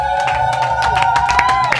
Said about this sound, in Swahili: Piga vigelegele kwa Bwana Yesu kama unanisikia, unanielewa kile ambacho naongea